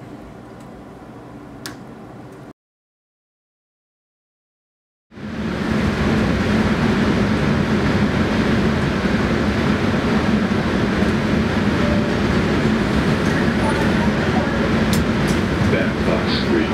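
A subway train in Allston, Boston rumbles past loudly and steadily after a few seconds of silence, with a dense roar that continues to the end.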